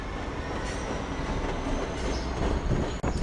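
An Amtrak train hauled by a P42 locomotive rolls past with a steady rumbling roar of wheels on rails and faint squeal, loud and continuous without speech.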